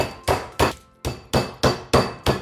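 A meat hammer pounding a raw chicken breast flat on a board, eight firm, evenly spaced thuds at close range with no talk.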